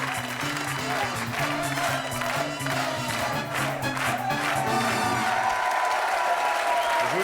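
A studio audience at a French television game show breaks into sustained applause, a thick wash of clapping and some cheering that runs for several seconds over steady tonal music, growing fuller toward the end.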